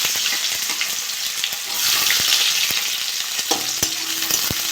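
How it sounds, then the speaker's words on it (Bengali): Onions frying in a pan with cumin for a fish, potato and okra chorchori: a steady close sizzle of hot oil with a few sharp spatula clicks and scrapes against the pan, no voices. "পেঁয়াজটা একটু ভেজে নেব"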